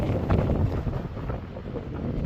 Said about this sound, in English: It's a beautifully windy freaking day here.